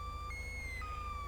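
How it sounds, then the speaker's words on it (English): A police siren in Grand Theft Auto V wails steadily in a two-tone pattern, switching pitch a couple of times over a constant low engine rumble, with no voices. "you hear the siren, dude?"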